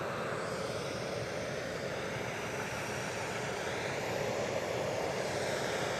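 A British Airways airliner arriving at Edinburgh Airport, its engines a steady broad roar that holds loud and constant throughout with no pauses, heard from a spotting position near the runway.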